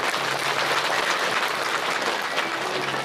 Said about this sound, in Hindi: इस माता रानी को सब तालियां बजाओ